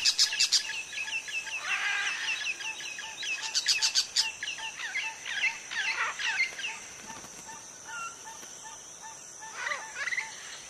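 Macaw parrots call in a repeated series of raucous, harsh squawks and chattering notes, fairly close and loud, continuing for several seconds over a quiet outdoor background.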